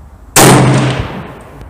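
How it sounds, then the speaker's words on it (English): A single loud, sharp rifle report from a Savage 111 in 7mm Rem Mag fitted with a muzzle brake, cracking hard and trailing off in a short decaying echo. "This is first shot with muzzle brake on 100"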